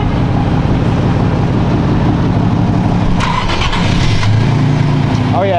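SRT Jeep engine running and revving loudly up close, a dense steady roar with a brief squeal near the end, while people talk over it.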